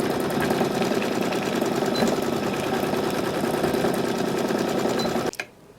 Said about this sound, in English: Keep as close as you can to this waistband and start sewing.